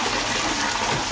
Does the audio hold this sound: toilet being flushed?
yes